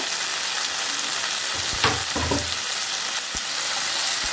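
Onions and a large tomato sautéing in a pan for Kumbakonam kadappa, a steady close sizzle with a few louder stirring bursts midway, no voices.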